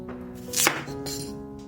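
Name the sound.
knife chopping radish into small pieces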